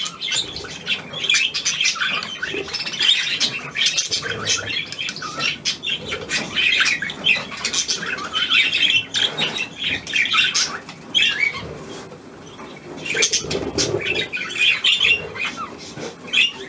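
A budgerigar squawks and chirps close up, producing a continuous stream of scratchy chatter with occasional wing flutters.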